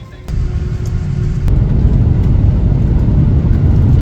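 Steady, loud low rumble fills an airliner cabin just after boarding, holding constant throughout with a brief dip at the very end.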